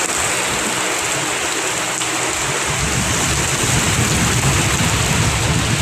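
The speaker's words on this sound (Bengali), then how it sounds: "দেখুন বৃষ্টি কত জোরে মানে হচ্ছে এখানে।" Heavy rain pours down steadily during a Kalbaishakhi storm near a station in Berhampur, Murshidabad, a loud, dense, unbroken roar of rainfall with a low rumble underneath throughout.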